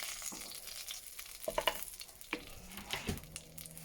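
Onion and carrots hit the rendered bacon fat in a pan and fry gently. A soft steady sizzle runs throughout, broken by a few clinks and scrapes from stirring, with no talking.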